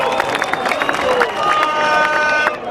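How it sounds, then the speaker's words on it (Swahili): A large outdoor political rally crowd in Busia County, Kenya, claps and cheers in a dense, fairly loud roar with scattered sharper claps and whistle-like tones. "Kwa hiyo muwapigie makofi."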